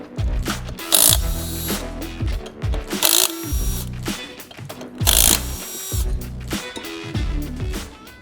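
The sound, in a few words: cordless or pneumatic impact wrench removing flywheel bolts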